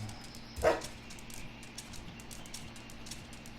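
In the Helltown video game, a dog gives a single sharp bark over quiet, rustling ambient game sound.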